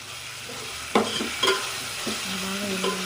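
Ginger garlic paste fries in hot oil in a pan, a low steady sizzle broken by several distinct scraping stirs from a spoon, close and fairly loud, with no talking.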